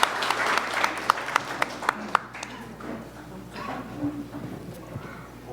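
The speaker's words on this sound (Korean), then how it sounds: "큰 박수 부탁드립니다." A church congregation gives a short burst of applause, with crisp claps for about two seconds before they taper off and people start talking.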